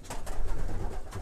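Pigeons coo in a racing pigeon loft among sprint and middle-distance hens, soft low throaty calls repeating close by with a rustly, busy background and no talk.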